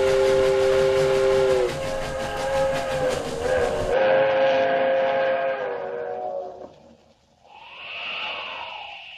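Steam locomotive whistle blowing a long, loud, steady tone that wavers and then fades, with train rumble under it as the train approaches a highway crossing.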